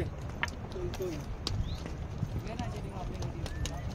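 Horse hooves clip-clop at a steady walk on a Himalayan mountain track to Sheshnag on the Amarnath Yatra route, close and distinct, with voices talking nearby.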